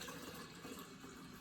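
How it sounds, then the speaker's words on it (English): Four quarts of tea pour from a container into a jar to brew kombucha, making a faint, steady stream of liquid splashing with no voices. "Pour your 4 quarts of tea."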